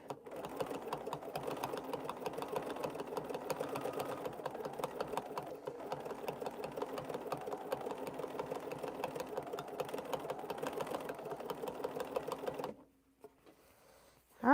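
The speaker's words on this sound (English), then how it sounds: "I'm pushing this Bernina to see what it can do." A Bernina sewing machine fitted with a size 11 needle stitches strips of fabric in a fast, steady mechanical whir with rapid even needle beats, running close for about twelve seconds before stopping abruptly into near quiet.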